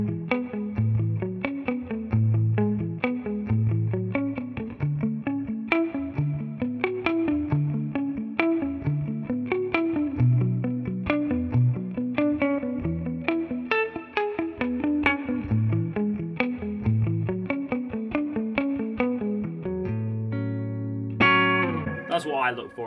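Gary Moore's Gibson Les Paul electric guitar plays a continuous melodic line on the neck pickup, with clean, warm notes and chords ringing out steadily, ending on a sustained strum.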